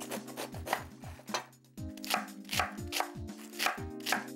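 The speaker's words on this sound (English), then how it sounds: "There's some slicing and chopping up to do" A knife chops through half a cabbage on a cutting board, a steady run of crisp, close thuds and crunches in uneven bursts, with no talking.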